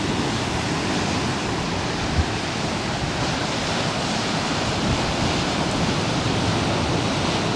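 Strong wind on the Nullarbor coastline roars steadily against the microphone, a loud, unbroken broadband rush mixed with surf-like noise and no talking.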